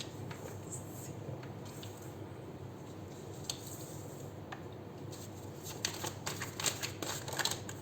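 Tarot cards being shuffled and drawn from a deck, heard as soft, faint riffling and light flicks close by, growing busier toward the end.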